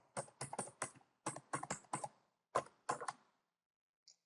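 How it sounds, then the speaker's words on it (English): A username is typed on a computer keyboard: quick bursts of crisp, close keystrokes in an uneven rhythm, pausing briefly, then one last faint tap, with no voices. "We're going to type the username, which is administrator."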